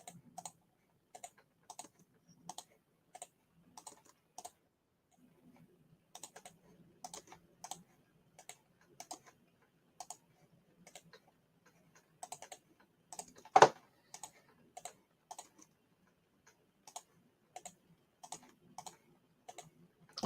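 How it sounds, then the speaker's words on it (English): Computer keyboard typing in quick bursts of clicks, with short pauses and one sharper, louder clack partway through, heard alone without talk. "Apologies for all the clicking as well."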